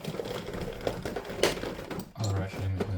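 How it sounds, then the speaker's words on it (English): Ratcheting mechanism of a crank-type window roller shutter under repair, giving a run of small clicks followed by a couple of low mechanical buzzes, fairly close. "So we can first test that the outer ratcheting mechanism is working. Yeah, you can hear it's clicking."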